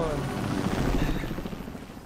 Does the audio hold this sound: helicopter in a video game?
yes